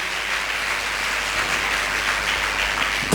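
A congregation at a Sunday church service in a Kolkata chapel claps continuously, a dense, even wash of applause with no pauses.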